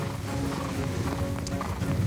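Racehorse galloping over the Grand National course, a steady loud drumming of hooves running continuously under a busy, noisy background.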